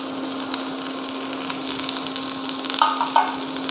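Lightly cooked vegetables for pasta fry in a pan with a constant close sizzle, a steady hum running underneath and a few brief clinks near the end.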